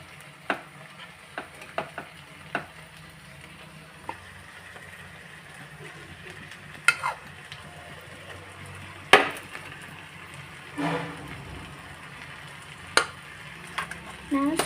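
Cooked rice being stirred into a frying pan, with soft sizzling under scattered spatula scrapes and knocks, close by at moderate level.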